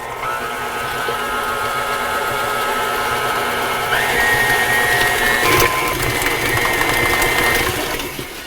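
An electric mixer beats cream cheese pumpkin pie filling with a steady, loud motor whir that holds its pitch throughout, sitting close. Slight shifts in tone suggest the beaters moving through the thick filling. No one speaks over it.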